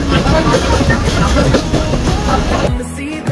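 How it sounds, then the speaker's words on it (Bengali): A loud, steady rumble and rattle of a moving train fills the clip, with faint voices in the background before it cuts away. "অবশ্যই আমাদের ট্রেন আমাদের গন্তব্যস্থানে পৌঁছার জন্য যাচ্ছে"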